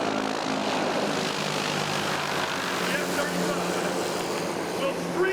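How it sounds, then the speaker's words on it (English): F-35 fighter jets fly low overhead at a special operations forces capabilities demonstration. A loud, continuous jet roar fills the whole stretch, with a voice faintly under it. "two of the Air Force's fastest fixed-wing aircraft,"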